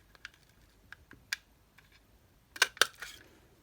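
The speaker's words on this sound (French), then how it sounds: "Je prends la perforatrice légèrement plus petite et je viens enlever un côté." A small craft paper punch clicks as it trims one side off a paper tab, with scattered light taps and then two louder, sharp snaps close together near the end, no talking.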